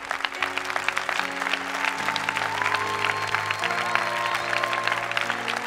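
A church congregation claps steadily throughout, the applause dense and continuous, while a sustained organ or keyboard chord moves through a few changes beneath it.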